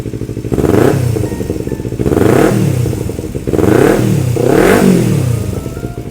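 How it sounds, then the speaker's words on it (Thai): A 2018 Kawasaki Z250 motorcycle exhaust revs up and settles four times in a steady rhythm, a smooth, throaty engine roar close by with no talking. "ท่อเสียงนุ่มๆเลยนะครับ"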